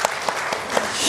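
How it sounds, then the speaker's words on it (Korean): A church congregation at a Sunday Advent service claps together in a short burst of rhythmic applause, close and loud, filling the room. "박수하겠습니다"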